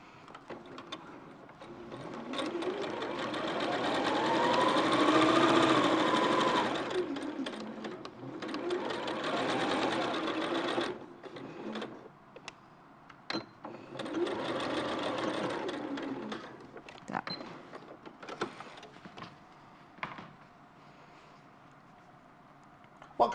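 A sewing machine stitches a quilt's fabric in long, steady whirring runs with brief pauses between, close and loud enough to stand out, with a short reverse stitch at the end of the seam.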